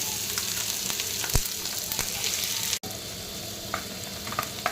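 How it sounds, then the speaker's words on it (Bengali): Onions frying in a pan, a steady close sizzle with occasional stirring scrapes and a brief dropout partway through. "পেঁয়াজগুলো একটু একটু ভাজা ভাজা হয়ে গেছে।"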